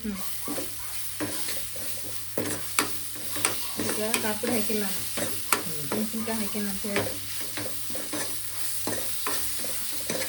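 Chicken with turmeric powder and chilli is stirred and mixed in a frying pan, with repeated scraping strokes and clanks over a steady sizzle while a voice talks briefly in the middle.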